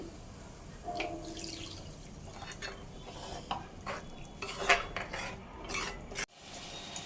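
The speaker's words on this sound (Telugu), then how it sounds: "కొంచెం వాటర్ వేసుకోవాలి." Water poured into a pan of raw turmeric pulusu seasoned with salt and chili powder, with stirring, scraping and occasional utensil clinks nearby, ending in a brief sharp knock.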